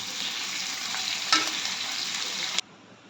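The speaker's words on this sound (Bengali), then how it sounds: "ক্যাপসিকামটা হালকা করে ভেজে হালকা একটু জল দিয়ে দেবো" Capsicum and onion fry in a pan with a steady, close sizzle and a brief louder burst of stirring midway, then the sizzle cuts off abruptly near the end, leaving quiet.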